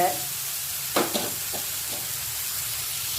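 Ingredients for mango pickle sauté in a hot pan, a steady loud sizzle with a few brief stirring scrapes near the middle and no talk.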